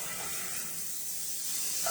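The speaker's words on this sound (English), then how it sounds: "we're just gonna brown up our ground sausage" Ground sausage browning in a very hot pan gives a steady, close hissing sizzle that holds evenly throughout, with no talk over it.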